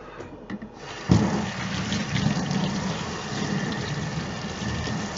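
Running water gushes steadily to rinse graphite off Mandalorian armor, a sudden start into a loud continuous splashing stream with no talking.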